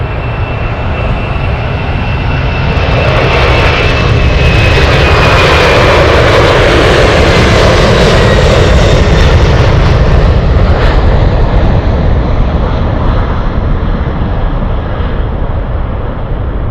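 Boeing 747 Dreamlifter jet landing at Anchorage, a loud, steady roar of jet engines with a whining tone that slowly shifts in pitch as the aircraft passes close by, no talk.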